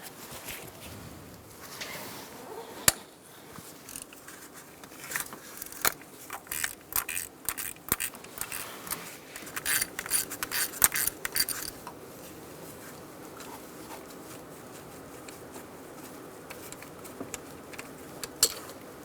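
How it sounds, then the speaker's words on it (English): Small metallic ticks and scrapes of a 10mm socket loosening the bolt that holds an ignition coil on a 2014-2019 Kia Soul 1.6L four-cylinder, with scattered sharp clicks over a quiet, close-up workshop background. "we're going to use a 10mm socket, and we're going to take out this bolt holding our ignition coil in"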